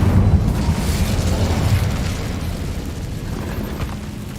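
The Incendio fire spell is cast in the Hogwarts Legacy video game, giving a loud burst that trails into a roaring, crackling rush of flame and fades over a few seconds.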